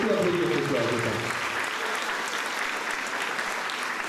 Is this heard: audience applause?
yes